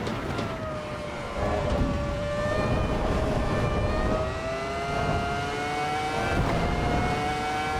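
Ferrari F1 car engine in the racing game Assetto Corsa EVO, a high-pitched whining drone rising steadily through the gears, continuous and fairly close, with no talk.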